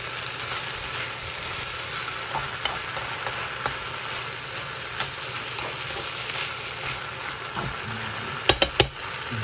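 Noodles tossed and stir-fried in a pan with oil and sauce give a steady sizzle throughout, with a few sharp clanks from the pan near the end and no talking.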